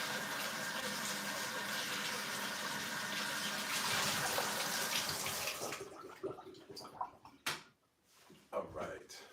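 Tap water runs steadily as a cooking spot is rinsed clean while making hawawshi, an Egyptian-style street burger. The loud flow stops after about six seconds, leaving scattered clatters and knocks.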